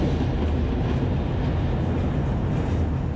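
Passenger train running between Wongwian Yai and Mahachai stations in Thailand, a steady loud rumble of wheels and carriage noise heard from onboard.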